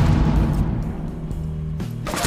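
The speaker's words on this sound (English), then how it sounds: "this guy threw a freaking flashbang at my face" A flashbang grenade going off in Rainbow Six Siege, a loud booming blast at the start that decays into a ringing, muffled hum, ending with a sharp noisy burst.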